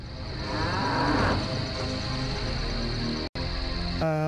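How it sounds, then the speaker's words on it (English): A cow in the video game Journeyman Project 2 gives a loud, drawn-out moo close by over a steady background hum, followed by a short electronic tone. "I hope that cow's okay."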